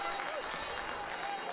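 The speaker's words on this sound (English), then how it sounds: "nice round of applause for a player that's been replaced" A crowd at a schoolboys' rugby final applauds a substituted player, faint and distant, a steady wash of clapping from the stands with a commentator's voice faintly over it.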